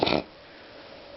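A sick dog gives one short, harsh cough close by, lasting only a moment before the room falls quiet.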